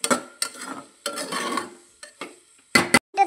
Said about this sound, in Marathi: आता मस्तपैकी हलवून घेऊयात आपण